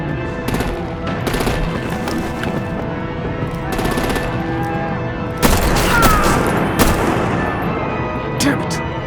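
Gunfire and artillery in the Batman: The Enemy Within video game: rapid machine-gun bursts and heavy booming shots crack out close and loud, with voices heard in between.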